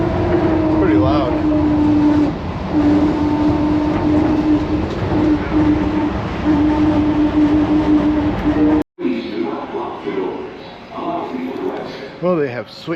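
Loud train rumble with a steady whining tone, then a sudden cut to a quieter cabin where people talk over the running noise; a train in Guadalajara, Mexico.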